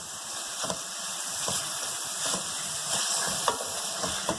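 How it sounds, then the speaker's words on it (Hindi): Chicken for shawarma fries in a hot pan, giving a steady close sizzle and hiss broken by periodic scraping strokes as it is stirred, with no talking. "हम ये चिकन ऐड कर देंगे और इसे हम अच्छे से फ्राई कर लेंगे।"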